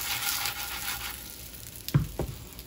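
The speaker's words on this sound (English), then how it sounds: "I like frying mine up, so that's what I'm gonna do." Steady sizzling of pierogi frying in hot oil, followed by a couple of sharp clinks near the end.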